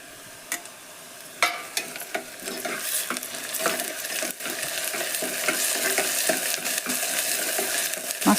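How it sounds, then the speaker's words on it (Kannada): Crushed garlic, coriander and chili paste spits in hot oil for a red chilli masala bath, a sizzle that swells and holds while a utensil clinks and scrapes against the pan. "ಬೆಳ್ಳುಳ್ಳಿ ಕೊತ್ತಂಬರಿ ಮೆಣಸಿನ್ಕಾಯಿ ಜಜ್ಜಿಟ್ಟೇನು ನೋಡ್ರಿ ಇದನ್ನು ಇದರದ್ದು ಇದಷ್ಟು ಪೇಸ್ಟ್ ಹಾಕ್ತೀನಿ ರೀ ಅದಕ್ಕೆ ಎಣ್ಣೆ ಒಳಗೆ ಫ್ರೈ ಆಗ್ಬೇಕು"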